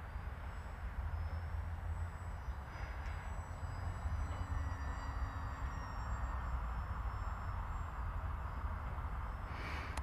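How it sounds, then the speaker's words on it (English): A small radio-controlled model plane flies at below half throttle, its engine a steady, distant droning buzz with a thin whine riding over outdoor background noise for the full ten seconds. "It's a nice little plane."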